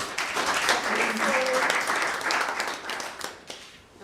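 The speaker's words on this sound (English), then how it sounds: "Wow, let's give another clap" An audience at an education conference claps in a broad, steady round of applause that carries on for several seconds before thinning out near the end, with a voice briefly audible over it.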